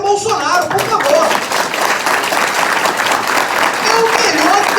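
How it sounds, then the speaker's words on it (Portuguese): Sustained applause from a crowd at a political event in Brazil, steady and loud throughout, with a voice speaking faintly in Portuguese over the clapping at the start. "Palmas para o ministério Bolsonaro, por favor."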